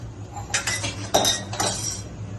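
A spoon knocks and clinks against a metal pot while dal is stirred, with three or four short metallic scrapes and taps over a low kitchen hum, close by, with no talk.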